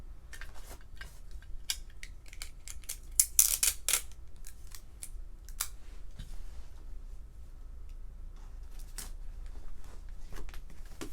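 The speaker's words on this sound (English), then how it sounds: "I'm going to tape the sides to it as well." Clear tape is pulled and pressed onto the sides of a paper vision board, making sparse, sharp crackling and snapping bursts with brief quiet gaps in a quiet room.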